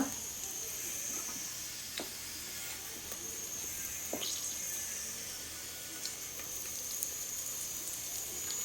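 Garlic, dried red chillies, cumin, curry leaves and asafoetida sizzle in hot oil in a steel pot for a dal tempering. A faint, steady hiss carries on throughout, with a few soft clinks.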